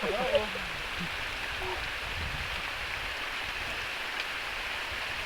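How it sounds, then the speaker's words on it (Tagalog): Steady, dense hiss of heavy rain pouring down throughout, with a brief murmur of voices near the start. "Nabatan ng malakas na ulan."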